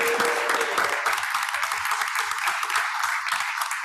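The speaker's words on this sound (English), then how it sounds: "Let's give him a round of applause." A round of applause at a school district board meeting for an elementary school student runner-up: steady, dense clapping from a moderately sized seated audience, even in level throughout, with no talking over it.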